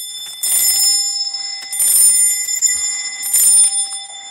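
Loud metallic ringing from a spring-loaded pull-cord wall doorbell comes in three rapid bursts roughly a second and a half apart, each with a sustained bell tone carrying through the gaps, close up and without speech.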